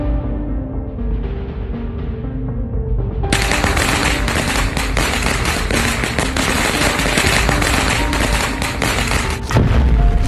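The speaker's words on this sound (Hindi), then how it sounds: "रॉड के बाद बुल्ली पटाखे फोड़ता है।" Cartoon firecrackers burst in a dense, rapid string of loud cracks and pops, like continuous gunfire, after a short lead-in, ending with a heavier thump near the close; no voices.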